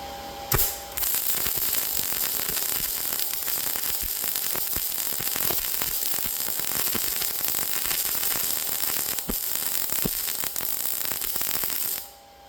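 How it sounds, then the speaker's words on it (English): Arc welder laying a bead with the wrong polarity, a steady close crackling sizzle running unbroken for about eleven seconds before cutting off abruptly. "I'm going to lay a bead with the wrong polarity real fast"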